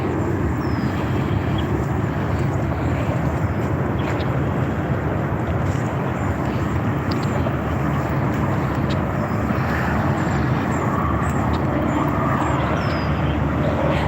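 Airplanes come in to land at an airport, making a steady, loud, broad roar that fills the clip along with wind noise, heard near a waterfront where cruise ships pass.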